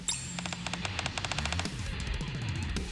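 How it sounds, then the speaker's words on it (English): Rapid machine-gun bursts from the video game Goddess of Victory: NIKKE rattle in a dense barrage, a fast string of sharp shots followed by a second volley, close and loud with no talking. "The cover in front of me shatters under a barrage of gunfire."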